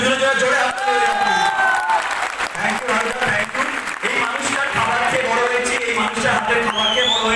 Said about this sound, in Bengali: আসল হাততালি এরা ডিজার্ভ করে, এদের দুজনের জন্য জোরে হাত।